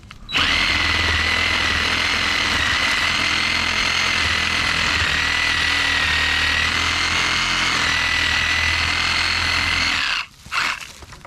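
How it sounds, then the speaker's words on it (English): A Sawzall reciprocating saw cuts a piece off a shed, one loud continuous buzzing run at steady pitch lasting about ten seconds, then stopping abruptly with a brief final burst. "I'm gonna use a Sawzall to take down this piece."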